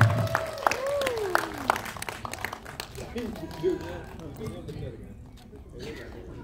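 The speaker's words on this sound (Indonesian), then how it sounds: "Berikutnya boleh kita berikan tepuk tangan juga untuk Atika Hasyolan." Audience applause at a film press conference, a dense patter of many hands clapping with a voice speaking over it at the start, gradually easing off toward the end.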